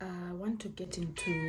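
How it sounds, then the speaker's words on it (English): A pet cat meows repeatedly indoors, loud and close, with rising and falling wails overlapping a person talking nearby. "So please ignore her. She'll keep meowing,"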